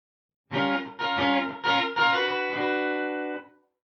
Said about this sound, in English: At maximum here, it's going to sound very reverb-like.